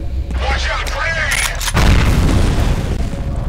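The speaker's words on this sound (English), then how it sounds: "Grenade!" A grenade goes off in the F.E.A.R. video game: a loud, deep boom lands midway, then a heavy rumble trails to the end, preceded by brief game sounds and a voice.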